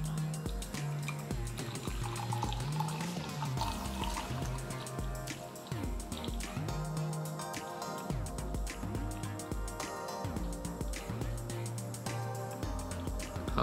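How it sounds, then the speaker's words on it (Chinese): Hot water pours from a kettle into a DCP coffee dripper in a steady, continuous trickle, fairly faint and partly buried under background music. "好，我们这样倒到225克。"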